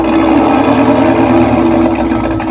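A loud, steady engine-like hum with a constant low drone, a simulated engine sound played through a Tesla's speaker, like an idling motor, with no talking.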